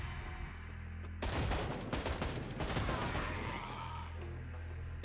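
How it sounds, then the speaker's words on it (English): Video game Project Zomboid gunfire as citizens attack soldiers on guard: after a quiet lead-in, a loud burst of rapid shots crackles for a couple of seconds, then thins to scattered distant pops. "awoken to the sound of gunshots as a group of citizens had finally begun attacking the soldiers"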